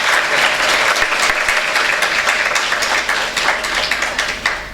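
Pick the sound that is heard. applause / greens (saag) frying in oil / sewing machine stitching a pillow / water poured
applause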